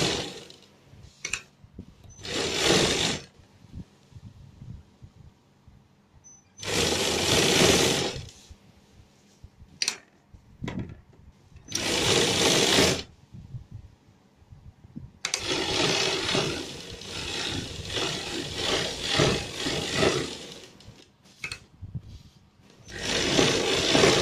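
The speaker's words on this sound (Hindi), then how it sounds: "यहाँ से अब हम थोड़ा थोड़ा कपड़ा इस तरह सिलाई लगाएंगे बिल्कुल किनारे पे" A sewing machine stitches coat collar fabric right along the edge in several loud, close bursts of rapid whirring, separated by quiet pauses and small clicks.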